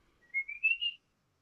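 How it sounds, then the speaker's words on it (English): A person whistles a short, clear rising tone of a few connected pitches lasting under a second, close and isolated against silence. "I want to try and whistle again"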